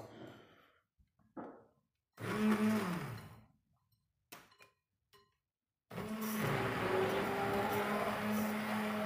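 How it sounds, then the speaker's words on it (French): An immersion blender whirs continuously as it mixes homemade bread dough ingredients with lukewarm water, starting after a few scattered clatters and brief bursts, then running loud and steady to the end. "j'ai mon mixeur plongeant. Je vais venir mélanger tout ce mélange-là."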